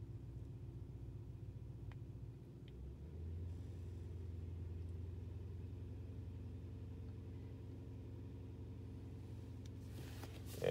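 Engine of a 2005 Toyota Tundra with an oxygen sensor stuck lean, idling in park with the throttle held slightly open, a low steady rumble that rises a little and holds, faint and close.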